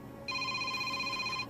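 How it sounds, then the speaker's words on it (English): A telephone rings once at home with a single steady electronic tone lasting about a second, clear and moderately close, with no talk. "Are you going to get the phone?"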